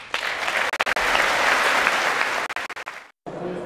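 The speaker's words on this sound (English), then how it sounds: "The applause there." Audience applause after a political speech on trade: dense, sustained clapping that briefly thins, drops to near silence for a moment, then resumes.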